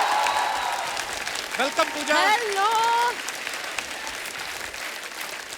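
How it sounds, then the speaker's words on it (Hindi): A studio audience applauds on a comedy talk show, a steady wash of clapping that runs throughout, while a man and a woman briefly exchange greetings over it. "एक बार जोरदार तालियां"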